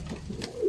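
An Andijan pigeon gives a single short, low coo close to the microphone, with a faint room murmur around it.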